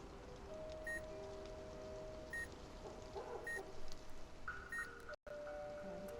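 Electronic spectrometer beeping in the Nancy Drew: Midnight in Salem video game, a short high tone repeating about every second and a half over a steady hum and soft game ambience, with no talking.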